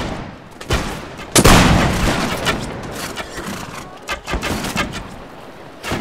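Musket volleys in the Mount & Blade: With Fire and Sword battle game, with several loud, sharp shots in close succession and a scattered crackle of gunfire continuing over a noisy battlefield backdrop.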